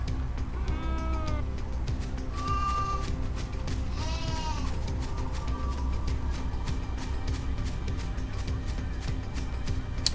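Sheep bleating in the video game Final Fantasy XIII-2, a few wavering bleats rising over a steady, dense game soundtrack and effects bed.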